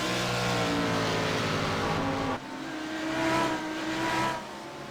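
GT3 race car engines roaring at Imola in a racing video game, a loud sustained drone with steady harmonics that drops abruptly as one car cuts away, then another engine swells and fades, with no talk.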